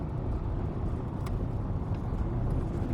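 A car engine in fifth gear pulling a 3-metre trailer while overtaking, heard as a steady, fairly loud droning hum mixed with road and wind noise, with no talking.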